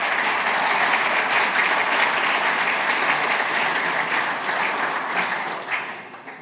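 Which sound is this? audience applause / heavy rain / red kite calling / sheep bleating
audience applause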